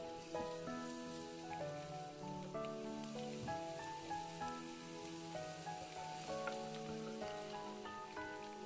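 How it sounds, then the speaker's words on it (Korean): Garlic sizzles gently in oil over low heat in a pan, a quiet, steady crackle and patter beneath a sustained tonal background, with no talking. "꼭 약불에 마늘을 네, 볶아주시면 됩니다"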